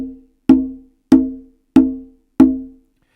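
Five open conga tones struck one at a time at an even pace, each a round, ringing hand-drum hit that decays quickly, with nothing else heard.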